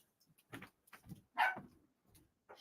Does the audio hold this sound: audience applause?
no